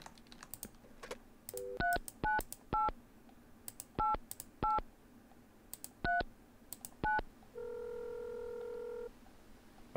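Telephone number dialed in the video game Mon Bazou: a string of separate touch-tone beeps in uneven rhythm with soft key clicks, followed by a longer steady ringback tone, quiet and clear.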